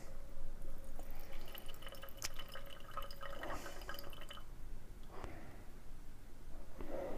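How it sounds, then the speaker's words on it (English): Liquid cyclohexene trickles from a separating funnel into a conical flask in a chemistry lab, a soft continuous pouring with small drips and splashes, close and fairly quiet throughout. "we'll run the cyclohexene into this conical flask."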